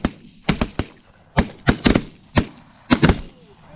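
Shotguns fire during an early-season Canada goose hunt in Michigan, with around ten sharp, close blasts in quick, uneven bursts, several overlapping as multiple hunters shoot together.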